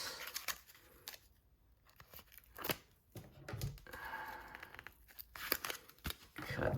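Scissors snip and tear through card packaging for a graded trading card, giving short crinkly cuts and crackles in bursts, with someone talking between them.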